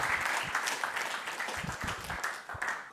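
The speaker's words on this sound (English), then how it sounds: "let's give him a big, warm, possibly compostable round of applause" A congress audience applauding at an opening session, steady dense clapping throughout with a few louder bursts, fairly close.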